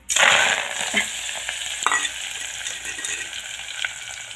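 Oil for methi kadhi sizzling and splattering in a pan: a loud burst of frying at the start that settles into steady crackling, with a few sharper pops along the way.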